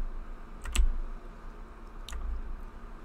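Typing on a computer keyboard to enter chat commands: two short clusters of close, sharp key clicks against a faint low hum.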